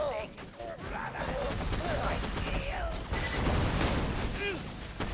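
A deployed turret fires in a shooter video game. Rapid bursts of gunfire crackle under an ongoing battle din, and voices talk over the action.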